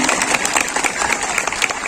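Audience applause at a state-level dance competition in Bhootbeda, Mainpur, Gariyaband, a dense steady wash of many hands clapping throughout, fairly loud and continuous.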